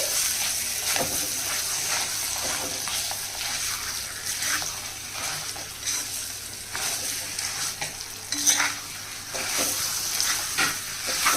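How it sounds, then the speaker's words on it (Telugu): Coarsely ground chutney is stirred and mixed in a hot pan, with a steady sizzle and frying crackle broken by repeated scraping strokes of a spoon, close and continuous. "ఇప్పుడు బాగా కలపాలండి పచ్చడి"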